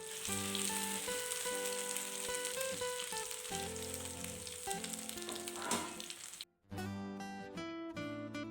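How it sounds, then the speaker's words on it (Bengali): Bread slices fry in hot refined oil, giving a soft, continuous crackling sizzle beneath melodic background music, with a brief drop in sound near the end before it resumes. "তেল গরম হয়ে আসলে এক এক করে আমি ব্রেডগুলিকে তেলের মধ্যে দিয়ে দেব।"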